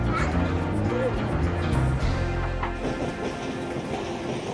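A passenger train runs on rails in Australia, a loud steady rumble and rolling roar filling the cabin, with a faint rhythmic clatter and a murmur of voices beneath.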